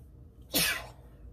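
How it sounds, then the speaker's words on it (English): One short, sharp human sneeze, close to the mic, standing alone against a quiet room background. "This is the problem that I've been having, is sneezing a lot with this thing, because it's tickling."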